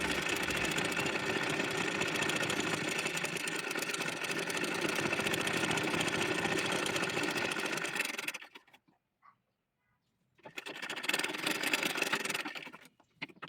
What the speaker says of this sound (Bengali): নিচের অংশ চিকন করে বোটে সেলাই করে নিচ্ছি।